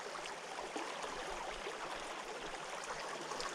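Stream water flowing along a nature trail, a soft steady rushing babble heard at low level throughout, with no one talking.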